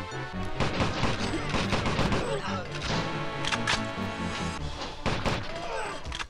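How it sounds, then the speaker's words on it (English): Dense bursts of rapid gunfire crackle and thud continuously over layered game music and effects in the video game GoldenEye 64, loud and close throughout. "I hear gunfire."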